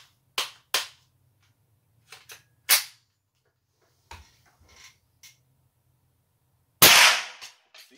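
A .22 LR GSG-15 semi-automatic rifle fires a few sharp, separate shots with gaps between them, and one louder, closer report comes near the end. The reports crack over quiet outdoor surroundings, and no one speaks.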